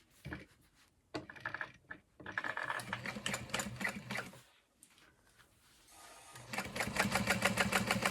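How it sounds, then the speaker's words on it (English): A sewing machine top-stitches a backpack of woven fabric and vinyl, running in close, rapid mechanical bursts with brief pauses between them and a longer, louder run at the end. "I'm just going to top stitch there"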